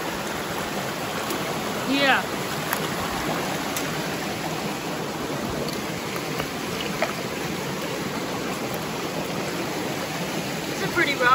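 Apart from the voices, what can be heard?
creek water flowing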